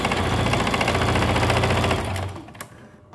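A sewing machine stitches the elastic edges of a fitted bedsheet, whirring in a steady rapid rhythm close up for about two seconds before slowing and stopping.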